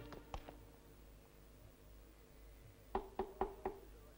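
Knocking on a door: a few scattered raps early, then a clear burst of four evenly spaced, sharp knocks near the end, fairly close and with no voices.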